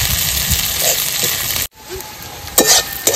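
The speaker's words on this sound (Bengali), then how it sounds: "সুন্দর করে ভেজে নেব।" Food sizzles and spatters in a hot pan during village-style chicken curry cooking, a loud crackling sizzle near at hand. It breaks off abruptly midway, then returns more faintly with a few stirring scrapes.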